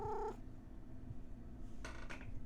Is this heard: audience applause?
no